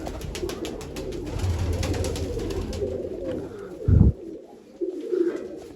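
Pet pigeons coo in soft, low murmurs amid a busy background, with a sharper low flutter or thump near the end.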